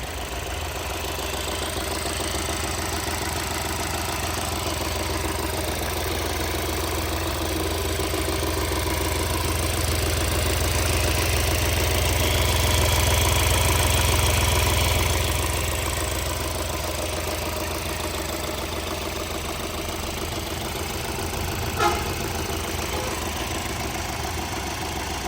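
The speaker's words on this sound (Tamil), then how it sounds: "வண்டியோட இன்ஜின் எப்படி இருக்குன்றதை நம்மளோட கேமராவை இன்செர்ட் பண்ணி இன்ஜினோட சவுண்டு" A 2021 Hyundai Aura CRDi diesel idles with a steady, even rumble and a faint knock, recorded up close and unchanging throughout, with a slight swell in the middle and no talk.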